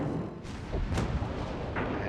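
Battleship secondary guns fire during a World of Warships naval battle, a few muffled booming shots and rumbling thuds over a constant low game-audio roar, moderately faint.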